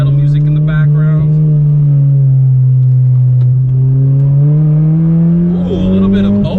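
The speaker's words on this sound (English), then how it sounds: "you can kind of just aggressively hit that rev limiter" A 9th-generation Honda Civic Si coupe engine is held near its rev limiter. It makes a loud, close, sustained high-rpm drone whose pitch climbs slightly toward the end.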